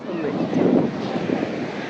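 Wind and surf on a beach where a road runs between farm fields and the sea, a steady broadband rush that swells slightly and holds for the whole two seconds.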